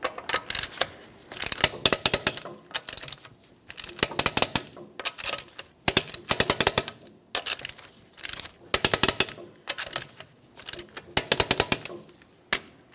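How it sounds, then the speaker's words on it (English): Lug nuts on the front wheel of a 2012-2015 Honda Civic being torqued to 80 foot-pounds in a crisscross pattern: repeated bursts of sharp ratcheting clicks, close and fairly loud, with brief pauses between nuts. "we're going to torque these to that 80 foot-pounds in a crisscross manner"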